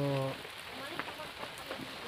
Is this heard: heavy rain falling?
yes